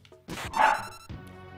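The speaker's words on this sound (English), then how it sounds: "Dogs, please, shush." Dogs bark indoors, a loud close bark followed by a second shorter one, with a faint thump just before.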